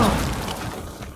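A breaching charge blows through a wall in Rainbow Six Siege. It is a loud, close crash with shattering debris that rumbles on for about a second and carries no talk.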